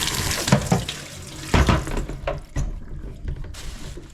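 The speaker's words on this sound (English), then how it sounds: "I can hear the tap running now" Water runs from an opened tap during plumbing work on a pressurised household supply, a continuous splashing hiss that surges and sputters at the start and then settles into a steadier close flow, with no talking.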